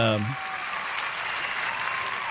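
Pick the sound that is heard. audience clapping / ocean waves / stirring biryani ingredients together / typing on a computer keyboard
audience clapping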